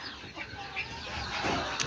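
Chickens kept in a caged setup on a poultry farm cluck faintly, with bursts of wing flapping and rustling. The sound stays fairly quiet and continuous, with a louder flutter near the end.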